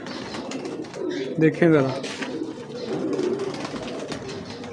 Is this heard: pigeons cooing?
yes